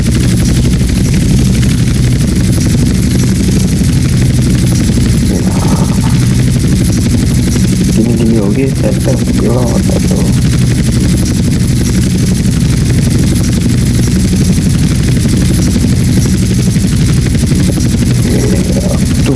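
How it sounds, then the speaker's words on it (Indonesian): A loud, steady Hunter attack helicopter rotor and engine drone in GTA San Andreas fills the clip, with someone talking briefly over it and bursts of clattering gunfire. "Kita take off ini pakai pesawat helikopter Hunter."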